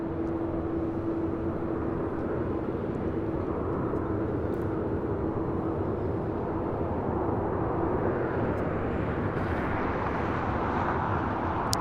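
A jet airliner, a Southwest flight bound for Austin, rolls for takeoff down runway 25 right at LAX, a steady broadband engine roar with a whining tone holding throughout, swelling slightly toward the end, with no voices.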